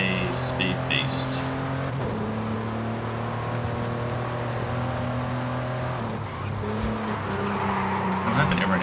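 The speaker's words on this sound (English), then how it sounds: "Definitely the Porsche I'm in is a speed beast." Engine drone of a Porsche in Forza Horizon 5, a steady loud sustained hum with rising harmonics and faint tire noise, continuous throughout under game audio.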